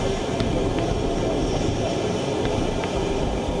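Jet airliner landing at Abu Dhabi, a steady loud broadband roar of engines and airflow holding continuously throughout with no voices.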